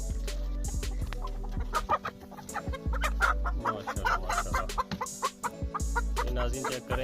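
Heavy Buff hens on a small poultry farm in Pakistan cluck and chatter continuously and close by, with overlapping calls from several birds over a low, steady background hum.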